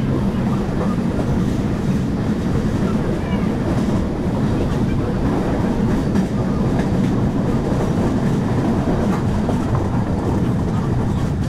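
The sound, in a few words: Darjeeling Mail train running on the rails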